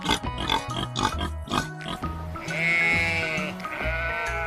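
Sheep bleating in a rapid series of loud, wavering calls, followed by a longer sustained bleat, with no talk.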